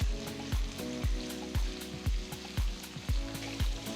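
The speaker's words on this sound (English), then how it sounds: "Saute the onions for about 2 to 3 minutes" Two large thinly sliced onions sauté in a pan, a steady close sizzle punctuated by a regular rhythm of scraping spatula strokes roughly twice a second, with no talk.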